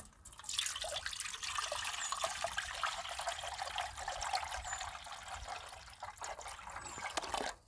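Liquid manure tea trickles and drips steadily out of a container, a soft continuous splashing trickle heard close up for several seconds, with no talking over it.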